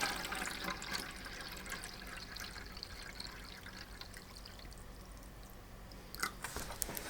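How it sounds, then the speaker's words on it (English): Distilled water, 750 milliliters, is poured steadily into a jug, making a continuous splashing, gurgling rush throughout at close range. "I'm going to measure out 750 milliliters of water and then dump this into this jug"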